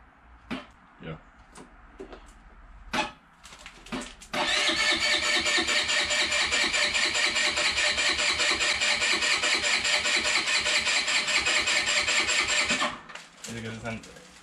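A Lexmoto Echo+ 50cc moped engine starts at close range with a brief attempt, then catches and runs loud and steady at idle for about eight seconds before cutting off, with a few voices heard before and after.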